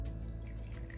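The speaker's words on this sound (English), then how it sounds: "I'm gonna add a little bit of water to that frog that's in there." Water poured into a frog garden ornament in a purple flower arrangement, a brief, steady trickle and splash heard close up.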